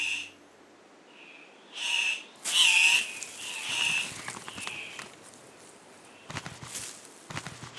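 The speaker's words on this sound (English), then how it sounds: "It's the noise of congregating cock-of-the-rock birds." Andean cock-of-the-rock birds gather at dusk in the jungle, giving loud squawking and whistling calls in bursts, with rustling and scattered clicks in the forest between calls.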